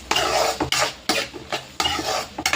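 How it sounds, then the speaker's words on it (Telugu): Thinly sliced onions fry in a pan and are stirred in repeated scraping strokes, each loud close swish rising over a hissing sizzle in a regular rhythm. "ఈ సన్నగా తరిగిన ఉల్లిపాయలు పోసేసి బాగా ఫ్రై చేసుకోవాలి."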